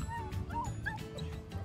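A young female puppy, on her first full day in a new home, gives soft high whimpers and short yips in a couple of brief bursts over steady low room noise.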